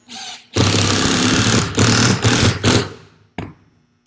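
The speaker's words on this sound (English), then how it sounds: "So I will be attaching 2 screws, one at the top and one at the bottom for the frame." A power drill drives long drywall screws into a wooden stage deck frame, sounding as three loud whirring bursts of close, continuous motor noise, then a brief final burst after a short pause.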